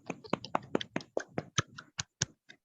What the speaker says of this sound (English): Can you give applause to your friends?